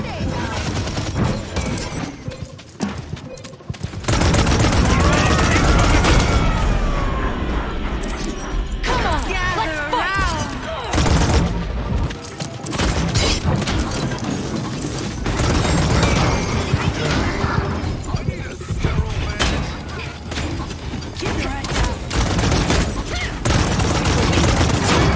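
Rapid barrage of gunfire and explosions in the video game Paladins, loud and dense with booms and crashing bursts, with a player's voice talking over the din.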